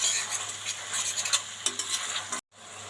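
Tomato sauce mixture stirred in a frying pan for fried rice and chicken chili, giving a steady scraping, sizzling stir with soft clinks close by, then a brief cut to silence near the end.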